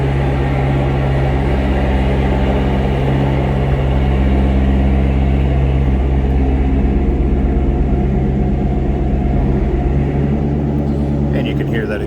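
A Chevrolet Corvette Z51 2LT coupe from 2017 idles after startup, its exhaust a steady, deep rumble that stays loud and constant throughout without revving.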